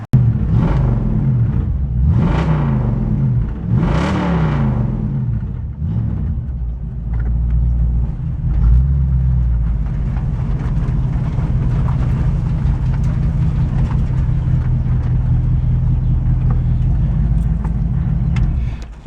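A 1967 Ford Mustang engine revs up loudly through several rising pulls with gear shifts between them, then bogs slightly and settles into a steady, heavy low rumble while driving, close and strong.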